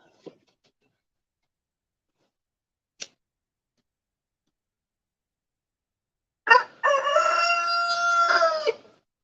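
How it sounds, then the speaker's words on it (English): After a couple of faint ticks in near silence, a rooster crows once, loud and close, a drawn-out two-second call. "And crazy roosters."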